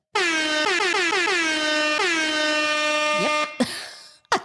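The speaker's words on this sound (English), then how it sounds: "I have an air horn." A loud air horn sounds in a long, blaring blast with a few stuttering pulses early on, then cuts off, followed by two short, ragged honks right at the end.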